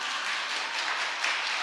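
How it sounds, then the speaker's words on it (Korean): A church congregation at a revival service applauds together, a continuous, even roar of clapping with no pauses, fairly loud and filling the room. "박수로."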